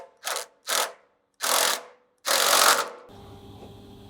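A ratchet tightens bolts on a 5th Gen Toyota 4Runner skid plate in four bursts of clicking, the first two short and the last two longer, close and clear, followed by faint mechanical noise.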